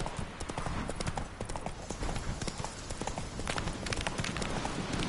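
In the video game The Witcher 3, a horse gallops with a rapid, continuous drumming of hooves, loud and close, plus faint background sounds.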